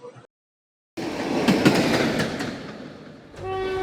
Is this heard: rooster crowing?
no